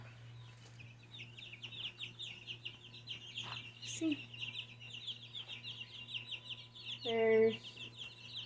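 Young chicks a few weeks old in a brooder, heard as a steady stream of high peeping chirps and soft clucks close by, with someone talking over them and a brief louder squawk near the end.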